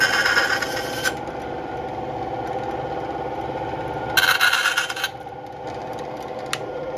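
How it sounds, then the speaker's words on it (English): Metal spoon being cut with small textured grooves while crafted into a jewelry feather: two short bursts of rough scraping and rasping over a steady background machine hum. "I take it and I make little grooves in here to give the feather a little bit of texture."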